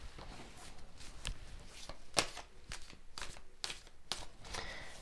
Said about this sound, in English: Let's draw some more cards for you.